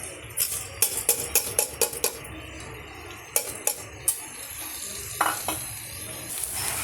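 Washed rice and cowpeas with chili and salt being stirred in a pan: a run of sharp scraping, clinking strokes of a spoon against metal, irregular and close, over a faint sizzle, with quiet stretches between bursts.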